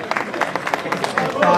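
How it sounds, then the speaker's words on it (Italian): Scattered applause from an audience at a regional enduro championship awards ceremony in Figline Vegliaturo, with claps mixed under crowd chatter and speech. "Applauso, applauso"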